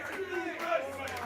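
A large wrestling crowd roaring and cheering during a match, a sustained wash of voices with a few shouts rising above it.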